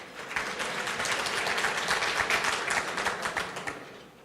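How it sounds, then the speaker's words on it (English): An audience at a Shas-a-Thon celebration claps together in a sustained burst of applause lasting a few seconds, steady and fairly close, then tapering off at the end with no talk over it. "when I say hate it, everyone claps"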